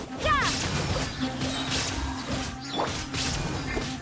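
A video game illusion-shattering effect: a bright shattering crash with sparkling, glassy debris scattering over a steady low hum, followed by softer whooshes and swishes.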